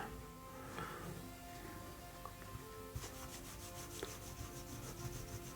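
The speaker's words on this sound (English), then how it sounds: "Rubbing it in. If you're having a nice warm day, it'll sink into the wood still a little bit more." Oil finish is rubbed by hand into a walnut knife handle, making a close, steady scratchy rubbing that turns into quicker rhythmic strokes partway through, with no one talking.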